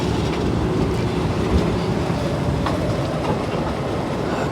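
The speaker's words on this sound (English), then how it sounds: "Look at that old train. I think it's a diesel train." An old diesel train rolls along rails at a road crossing near the Malaysia–Thailand border, a continuous loud rumble with faint clickety-clack and occasional squeaks of the wheels, heard close and without talk.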